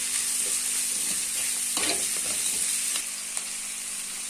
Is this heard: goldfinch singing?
no